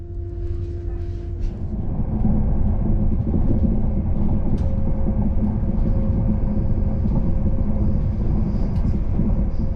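A Northern train rolls into Keighley station with a broad, steady rumble and faint mechanical whine, heard from on board, loud and continuous with a few light clanks.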